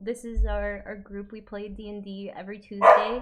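A needy pet dog barks and yips briefly, one sharp bark standing out near the end, while people talk steadily over it during a tabletop game session.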